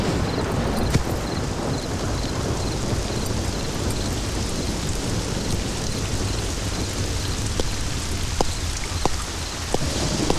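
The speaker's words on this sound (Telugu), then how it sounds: "బయటినాడు వర్షం వస్తున్నది సారు" Steady rain pours outside, a dense continuous hiss with scattered sharp drip clicks and a low rumble underneath, moderately loud throughout.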